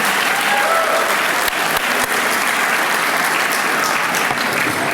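A banquet crowd at a Chicago convention applauds steadily and loudly, dense sustained clapping filling the hall with a few sharper claps standing out near the start.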